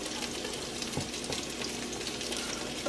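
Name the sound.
Trader Joe's fried rice sizzling in a pan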